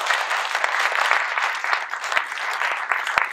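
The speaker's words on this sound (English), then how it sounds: "So a round of applause for that." An audience at a talk applauds the participants, giving dense, continuous clapping at close range with a few sharp individual claps.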